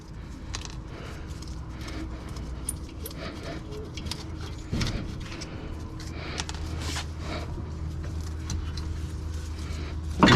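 Metallic clicks and clinks from a wrench loosening and removing a front brake caliper bolt on a 2006-2008 Toyota RAV4, heard over a steady low background hum with a few sharper knocks midway.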